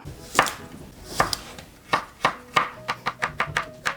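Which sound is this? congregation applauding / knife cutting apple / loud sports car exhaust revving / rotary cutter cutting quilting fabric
knife cutting apple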